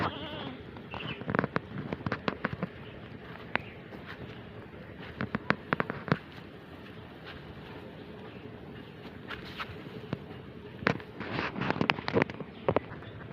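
A pregnant Black Bengal goat bleats repeatedly in short bursts outdoors while being fed grass at midday, the calls clustered with pauses between them over steady background noise.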